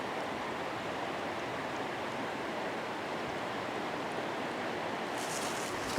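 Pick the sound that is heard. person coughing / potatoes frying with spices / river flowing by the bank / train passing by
river flowing by the bank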